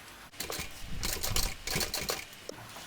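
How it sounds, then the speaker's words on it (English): A sewing machine stitches a pocket onto a fabric shoulder bag, giving a steady mechanical whirring broken by a few short pauses and restarts, close and moderately loud, with no talking. "Now we can go ahead and sew that on."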